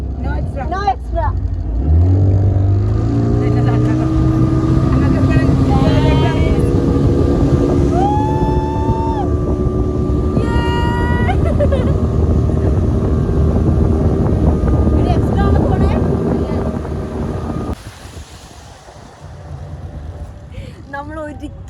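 A speedboat's outboard motor drones loudly and steadily through a long ride on open water, its pitch rising as it picks up speed at the start, with wind buffeting and people talking over it, before the engine drops back near the end.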